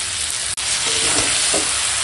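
Chicken kosha sizzles loudly in a pan while being stir-fried with spices, a continuous close hiss and crackle with a brief dip near the start and soft scraping from the stirring.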